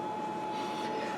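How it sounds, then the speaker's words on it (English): A Brother printer scans a sheet to make a copy, a steady mechanical hum with a faint whine, continuous and close throughout the short stretch. "Now I laid a sheet in the scanner to make a copy."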